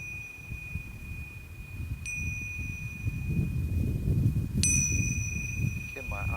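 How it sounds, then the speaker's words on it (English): Meditation chimes ring twice in a quiet room, each strike leaving a clear, bright tone that hangs and slowly fades, the second sounding fuller than the first, over low background rumble. "The next thing I like to do is to rock some chimes."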